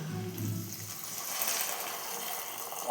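A glass of water pours steadily into a pot of dry fish brinjal curry for a few seconds, a soft rushing splash that gradually thins out, with no talking.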